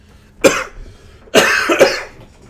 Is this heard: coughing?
yes